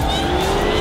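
A Nissan S15 drift car on a track, captured as a brief, loud burst of engine roar with a rising tonal whine and tire noise.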